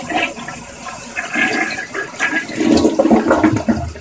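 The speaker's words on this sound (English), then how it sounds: "Drop one, flush one, if you will." A toilet flushing nearby, a loud gurgling rush of water that swells and churns for several seconds with no voices over it.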